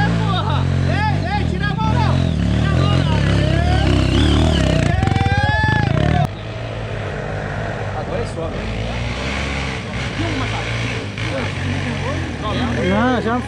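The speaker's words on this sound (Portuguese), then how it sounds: "A moto faz barulho, não, mano?" Motorcycle engine on a dirt trail in Tocantins, droning and revving steadily close by with wind noise, while people talk over it throughout.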